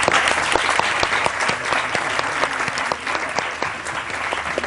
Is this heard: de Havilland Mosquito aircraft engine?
no